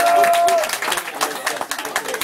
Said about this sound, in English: Clap your hands for SB